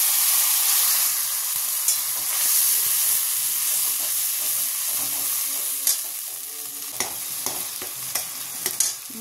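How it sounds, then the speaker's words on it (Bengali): A paste of tomato and green chilli with kalonji and turmeric fries in hot oil, a loud, steady hiss and sizzle that thins slightly over time, with sharp spatters and spoon taps near the end. "হলুদ দিলাম, স্বাদ মতন দিয়ে মশলাটাকে বেশ করে কষিয়ে নেব"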